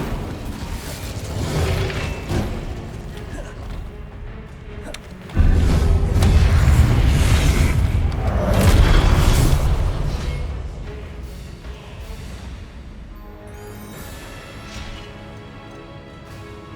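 A fire spell cast in a Harry Potter wizarding video game set in the Map Chamber: a loud, rumbling burst of flame erupts about five seconds in, holding as a sustained roar before fading into crackling game ambience.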